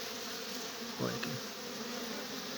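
Bees and a hornet buzz at a Ukrainian apiary, a steady close insect drone throughout with one brief louder pass near the middle.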